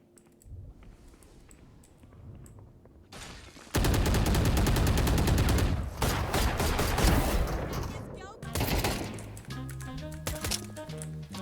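Video game gunfire erupts in loud rapid bursts, automatic fire rattling for several seconds before pausing and resuming, with game sounds and players' voices around it.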